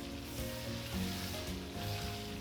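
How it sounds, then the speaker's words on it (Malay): Shrimp frying in hot oil in a home cooking setting, a steady close sizzle with soft crackle throughout, no talk. "Kita gorengkan udang dulu."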